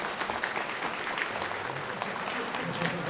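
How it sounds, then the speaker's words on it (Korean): A church congregation gives the Sunday school teachers a round of applause during a worship service, steady, moderately loud clapping from many hands with some voices underneath. "우리 교사 선생님 박수 한번 쳐주면 좋을 것 같은데"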